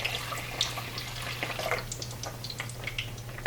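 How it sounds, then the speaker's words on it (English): Water poured into a cooking pot to boil corn with coconut milk and pig tail, a soft continuous splashing trickle with a few brighter drips, fairly quiet and without talk. "Here goes in that water."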